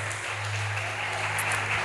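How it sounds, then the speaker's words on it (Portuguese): A church congregation applauds during a Portuguese-language sermon, a steady wash of clapping with a low hum running underneath throughout. "Dê um aplauso a Jesus."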